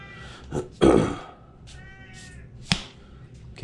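A cat indoors meows several times at close range, with one loud, drawn-out meow and shorter calls around it, over quiet room noise.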